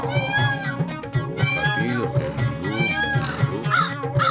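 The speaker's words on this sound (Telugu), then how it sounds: "ఈ కాకులు గోలా పడలేకపోతున్నాను" Crows cawing in an animated cartoon, a dense chorus of overlapping harsh calls repeating steadily and fairly loud throughout, with no talking over them.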